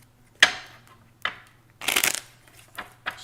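Several short bursts of cards being riffled and shuffled, crisp and close, with brief pauses between each flurry.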